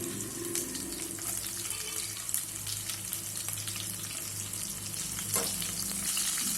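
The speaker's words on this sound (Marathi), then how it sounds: "आता यामध्येच मी हिरवी मिरची टाकून घेणार आहे. ती छान आपल्याला तळून घ्यायची आहे." Green chillies frying in oil for Diwali chivda, a loud dense sizzle and crackle with occasional stirring clinks, close up and with no one speaking.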